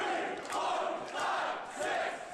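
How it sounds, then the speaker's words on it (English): Wrestling crowd in an arena cheering and shouting in swelling waves during a match, a dense roar of many voices rising and falling over a couple of seconds. "the crowd is excited"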